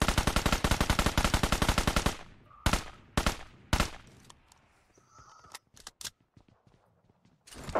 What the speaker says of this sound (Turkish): Adamı çok vurdum da ölmedi.